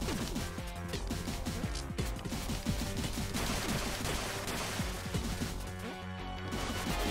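Dense, continuous gunfire from an old-fashioned cowboy-style weapon gunfight in the video game Pizza Tower, rapid shots and crashes layered over loud game music for several seconds.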